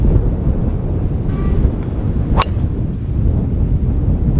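Strong wind buffets the microphone on an uphill golf course, a continuous loud rumbling roar with a brief sharp sound partway through.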